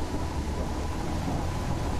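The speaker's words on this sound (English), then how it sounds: "It's a thunderstorm now, okay." Rain and rumbling thunder from a storm in the driving game Endless Suburbia, a dense steady wash of noise with no talking.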